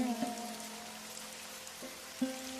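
Rain falling in a Hindi story scene, a soft steady patter on surfaces that stays faint under a sustained tone, with a few brief knocks.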